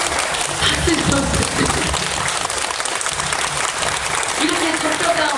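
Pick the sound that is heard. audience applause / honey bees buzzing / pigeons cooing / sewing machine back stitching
audience applause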